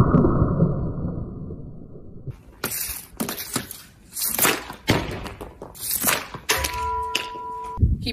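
A hockey puck stickhandled and shot in a home practice setup, with several sharp cracks and thuds of stick on puck and a loud slap of the shot, close and alone over a low rumbling background.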